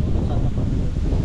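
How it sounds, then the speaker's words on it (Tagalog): Strong wind buffets the microphone at a beach campsite in Lobo, Batangas, a dense continuous low roar lasting a brief moment. "Kasi ang lakas ng hangin."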